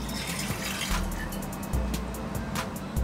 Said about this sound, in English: I'm going to take this cup of water and pour it inside the pressure cooker